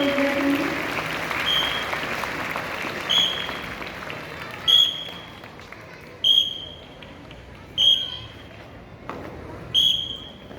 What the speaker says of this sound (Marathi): एकदा या विद्यार्थिनीच्या रचनेसाठी जोरदार टाळ्या वाजवा सर्व विद्यार्थ्यांनी।